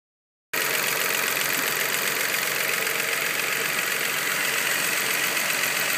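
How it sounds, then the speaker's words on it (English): Nissan 3.5L V6 idling with valve noise under the rocker cover, a steady close mechanical hum with a fast, even ticking texture that starts abruptly after a brief silence and continues unbroken with no talk. "You can hear some valve noise. Under the rocker cover."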